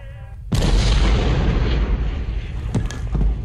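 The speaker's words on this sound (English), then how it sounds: "Oh, did we get exploded?" A loud, sudden explosion in a video game bursts in with a heavy boom, then rumbles on with a sustained roar and a couple of sharper cracks.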